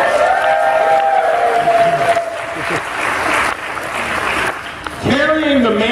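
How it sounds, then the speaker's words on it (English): Audience applause at William Shatner's handprint ceremony, honoring Leonard Maltin, a loud outdoor wash of clapping and cheering with voices calling out and a brief swell near the end. "Another applause for Leonard Maltin, everyone."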